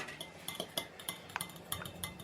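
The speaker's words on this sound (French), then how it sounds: "Tu mélanges le beurre avec l'œuf." A utensil stirs butter and egg together in a bowl for Tunisian griouch pastry dough, making quick close clinks and light scraping taps in an irregular rhythm, with no talking.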